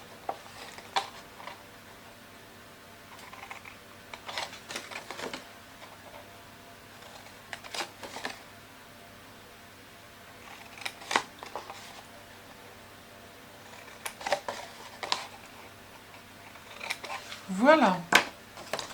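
Sharp wooden taps and clicks from a woodworking chisel cutting a small wooden compartment box come in scattered bursts, close and fairly crisp, with quiet gaps between the strikes and a brief louder scrape near the end.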